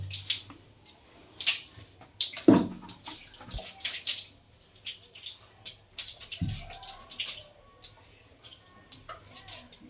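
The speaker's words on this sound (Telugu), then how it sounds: "ఇవన్నీ రుద్దుకున్నాక మనం నీళ్ళు తీసుకుని జస్ట్ కొడితే చాలు" Water tossed and splashed across a bathroom floor and walls during scrubbing, with bursts of splashing and dripping, some sharp loud splashes, then quieter trickling.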